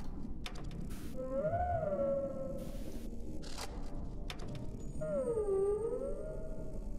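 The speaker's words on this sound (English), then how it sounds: "So it's the whale noise that we've been hearing this whole time." Low whale calls from We Were Here Forever swoop and bend in two long, moaning glides, one early and one later, over a dim ambient bed with some clunking noises between them.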